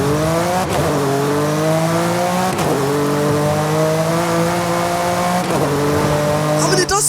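A car engine in the racing game Forza Horizon 5 revs loudly through repeated accelerations, each climbing run broken by a gear shift, ending with a brief sharp burst of noise.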